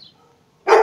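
A dog barks once, loud and close, at dogs passing outside, a single sharp bark bursting after a near-silent moment.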